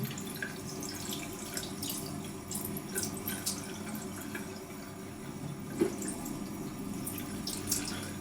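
Cold tap water runs steadily while hair is rinsed during a shampoo after a hair transplant, a continuous close splashing stream with small drips and a few soft knocks, no voices.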